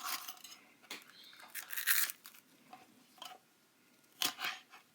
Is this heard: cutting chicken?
yes